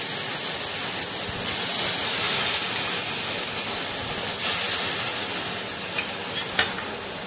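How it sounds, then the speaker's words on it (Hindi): Three spoons of water hit roasted vermicelli in a hot pan, setting off a loud, steady sizzle and hiss with some stirring scrapes, close and continuous with no talk. "3 चम्मच पानी डाल देंगे।"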